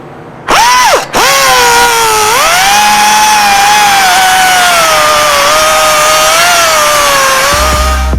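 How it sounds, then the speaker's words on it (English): A power cutting tool slices through old big block Chevy exhaust header tubes at the flanges, a loud sustained whining cut that starts abruptly, dips briefly, then holds a steady pitch that slowly falls under load. "So I'm going to start cutting."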